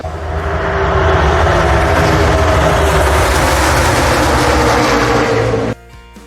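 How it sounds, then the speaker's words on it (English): A NASCAR Cup Series race car on the track at Daytona during qualifying, a loud, steady engine roar that holds for several seconds near the listener before cutting off abruptly. "the first car is hitting the track for Cup Series qualifying"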